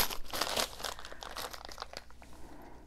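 Clear plastic packaging of plastic clips being cut open, giving a close, loud burst of crinkling and crunching plastic that fades into scattered softer rustles.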